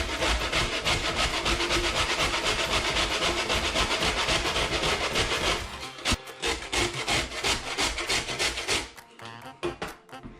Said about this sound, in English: So we've got a fine grater sitting here, and then we're just going to grate this down.